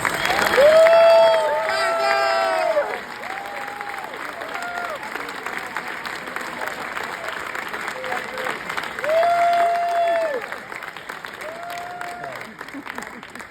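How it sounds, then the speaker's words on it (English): An audience at an Innocence Network event applauds and cheers Alphonso James, with sustained clapping and several rising whoops and shouts from the crowd, loudest at the start and again near the end. "A round of applause, ladies and gentlemen, for Alphonso"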